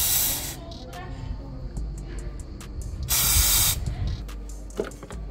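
Cleaning spray is squirted onto the sensor of a Honda Spacy Alpha scooter in a workshop: two longer hissing bursts, one at the start and one midway, plus several short spritzes, with some background talk.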